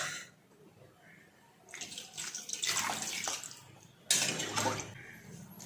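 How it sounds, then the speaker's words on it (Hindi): Water is poured into an egg curry gravy in a pan with potatoes in a home kitchen, splashing and trickling in two short bursts after a quiet start. "एबे आ भितर मु पानी देदेवी।"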